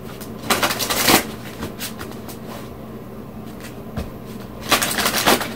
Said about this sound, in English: so let me pull some surrender cards.